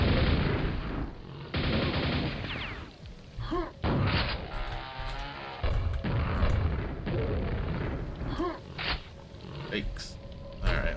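A grenade explodes in the Doom/Quake shooter, with several heavy, booming blasts and gunfire-like bursts spaced across the clip, loud and close amid continuous game noise.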